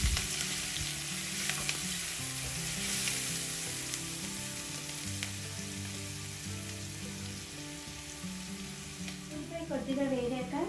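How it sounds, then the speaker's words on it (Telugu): Mushrooms with curry leaves and salt sizzle steadily in a pan as they fry, a soft continuous crackle with occasional stirring scrapes under quiet background music. "వీటిని ఇప్పుడు కొద్దిగా వేగనివ్వాలి."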